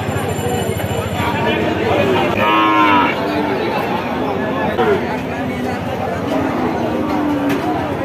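Cattle low and moo at the Jessore cattle market, where Sahiwal, Friesian, crossbred and local breeds are for sale; a clear drawn-out moo rises near the middle over constant crowd chatter and people talking close by.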